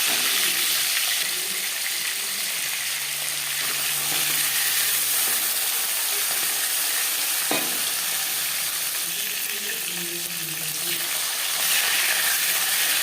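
Marinated Bhola fish frying in oil in a kadai, a steady broadband sizzle running the whole time with faint clinks of utensils and no talk.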